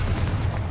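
Fiery blast spell cast in Hogwarts Legacy combat: a short, loud, low booming burst smeared into rumbling game background noise.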